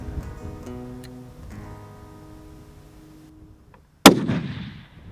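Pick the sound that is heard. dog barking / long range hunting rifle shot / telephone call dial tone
long range hunting rifle shot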